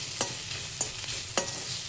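A spoon scrapes through chilli powder and spices in a pan while making gobi fried rice: three quick, crisp stirring strokes over a soft, steady sizzle, close and fairly quiet.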